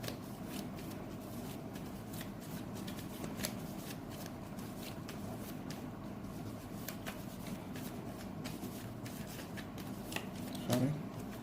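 Tarot cards shuffle softly and continuously at close range, a quiet riffling and sliding texture with small clicks, and a voice speaks faintly beneath it.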